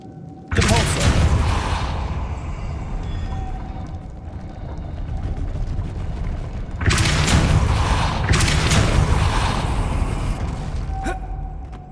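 A Depulso spell cast in the Hogwarts Legacy video game lands as a heavy booming blast that rumbles on, then another strong burst follows later, both loud and close.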